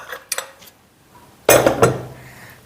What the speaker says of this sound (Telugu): అండ్ ప్రెషర్ కుక్కర్ బౌల్ వచ్చేసి ఇలా ఉంటుందండి.